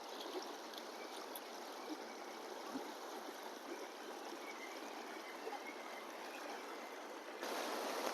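A river in the hills near Neral, deep and running with strong force, flows in a steady, even rush that holds at the same level throughout, with no voices over it.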